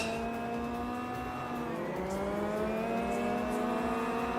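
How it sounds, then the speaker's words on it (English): Racing car engines idle and rev at the start of a VRChat GT race, a layered steady drone of several engines with one pitch dipping and then climbing again, moderately loud and continuous. "The revs are rising."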